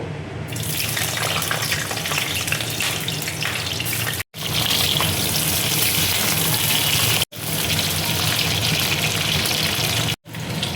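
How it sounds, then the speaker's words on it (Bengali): Pointed gourd pieces fry in hot mustard oil in a kadai, a loud, dense, steady hiss that breaks off briefly three times before resuming. "এবার আমি পটলগুলো ভেজে নেব।"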